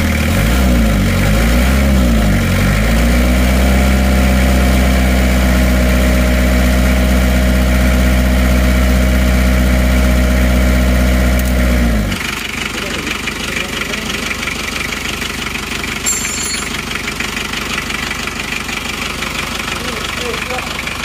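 An Isuzu Panther 2.3 diesel engine idles loud and close with a steady low rumble and knock, then the tone drops and settles to a quieter even idle partway through.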